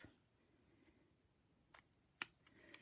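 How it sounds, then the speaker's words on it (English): Snips cut paper tails at an angle in a quiet room, giving a few sharp separate snips with a soft crunch before the last one, close and clear. "Now I'm going to take my snips and just angle these tails off"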